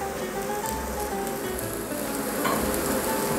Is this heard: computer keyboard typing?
no